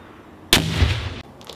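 A fragmentation grenade thrown by Marines during room-clearing training detonates once, a sharp, close blast with a roaring tail of about a second that cuts off abruptly, and no speech over it.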